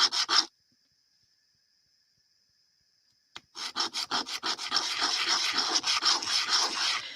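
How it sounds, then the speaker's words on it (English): Rhythmic sanding strokes of small wooden pieces scraping across abrasive to flatten them, a brief burst then a pause, followed by steady, close back-and-forth rubbing that grows louder. "I'm just going to take them and sand them so they have a nice flat."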